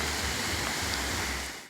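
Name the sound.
river flowing, swollen in rainy season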